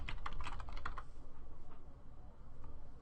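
Rapid clicking keystrokes on a computer keyboard, a fast irregular patter, heavier at first and then lighter, close and fairly quiet with no talking.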